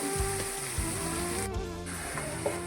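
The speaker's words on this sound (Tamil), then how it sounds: "இப்போ பாருங்கள் மீன் குழம்பு பாருங்கள் நல்லா கொதிச்சிருச்சு" Fish curry boils steadily in a pot, with a continuous close bubbling hiss and soft low thumps from the bursting bubbles. No voices are heard.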